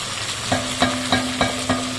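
A wrought iron vessel sits over a low flame while food is stirred and fried. Five evenly spaced scraping knocks sound over a constant close sizzle.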